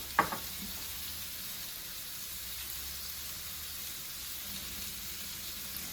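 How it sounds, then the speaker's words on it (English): Meat searing in a pan on the stove before going into a slow cooker, giving a steady, moderate sizzle throughout with a brief clatter at the start and no talking. "You just want to get a nice sear on it."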